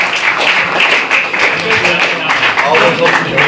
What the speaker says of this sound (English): Give yourself a round of applause, everybody, for coming out